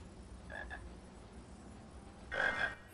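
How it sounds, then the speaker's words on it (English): A frog in the Harry Potter and the Chamber of Secrets video game croaks twice, a short faint croak followed by a louder, longer one against a quiet game background. "Oh yeah, there's a frog there."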